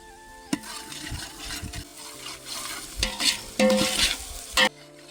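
Dry onions fry with salt in a pan for a village-style Gujarati peanut bhujiya curry, giving a continuous close sizzle with frequent stirring scrapes and a few sharp knocks of the spoon against the pan, and no talking.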